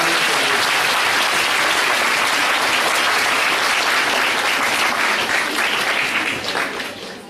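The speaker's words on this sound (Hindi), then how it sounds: "एक दूसरे के लिए जोर से तालियां बजाओ" A crowd at a positive-mental-attitude session in Khanpur Kalan bursts into loud, dense applause that holds steady for several seconds and then tapers off near the end.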